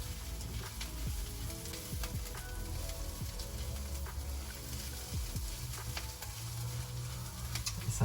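Lentils and rice frying over low heat in a pan after onions and spices, a steady close sizzle broken by scraping stirs and light clinks of the utensil against the pan.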